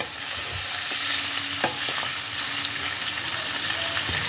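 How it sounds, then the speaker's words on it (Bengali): Paneer cubes shallow-frying in a pan with a pinch of salt, a dense continuous sizzle with occasional scraping of a spatula as the pieces are turned, heard up close with no talking. "এইভাবে আমি সমস্ত পনিরগুলোকে ভালোভাবে ফ্রাই করে নিচ্ছি।"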